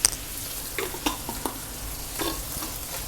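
Chili flakes saute in hot oil for a spicy chicken dish, giving a continuous sizzle with a sharp tap at the start and several scraping stir strokes, close and with no talking.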